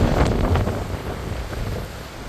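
Gusty wind buffets the microphone high up on Bermuda island, loud at first and easing slightly, a low blustery rumble with no talking.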